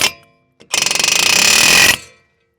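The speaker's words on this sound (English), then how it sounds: "We'll start off getting this rusted brake rotor free." A short burst of rapid, loud hammering from a Milwaukee M18 FUEL cordless air hammer freeing a rusted brake rotor, close and harsh, preceded by a brief click and fading out abruptly into silence.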